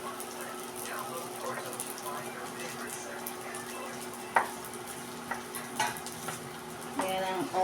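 A Filipino home-style ulam stir-fries in a pan, a steady low sizzle running under scattered sharp scrapes and clacks of a utensil against the pan, the stirring strokes growing busier toward the end.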